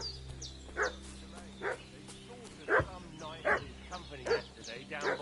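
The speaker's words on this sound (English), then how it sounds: "What's that dog making such a fuss about?" Repeated dog barks from the medieval open-world video game Kingdom Come: Deliverance 2, about six sharp barks spaced roughly evenly over steady ambient game background, moderately close.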